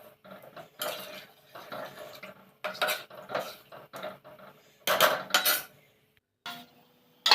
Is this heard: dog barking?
no